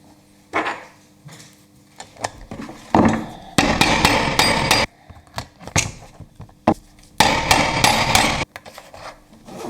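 Metal eyelets are hammered into the leather chin strap holes of a handmade cowboy hat. Sharp, close strikes ring out one at a time, alternating with longer bursts of dense clattering and rasping noise.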